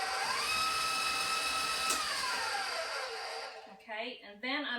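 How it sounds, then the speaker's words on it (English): An electric mixer whirs steadily through pumpkin cookie batter, its pitch sliding down as the motor slows and stops, followed by someone speaking. "I'm going to mix that up really good."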